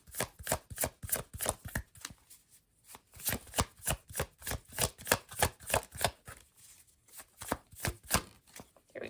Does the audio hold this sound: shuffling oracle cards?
yes